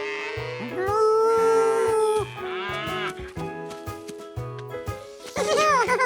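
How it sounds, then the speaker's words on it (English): Cartoon cows moo in long, drawn-out tones over bouncy background music, several animals calling one after another, loud and close. "And to George, one great thing about fresh dairy products was the cows."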